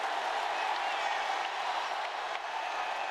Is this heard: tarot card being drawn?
no